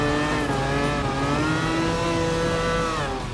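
A mid-engine sports rally car in Gran Turismo Sport power slides, its engine holding a loud, steady high-pitched whine with a slowly shifting pitch for the whole stretch, with no voices.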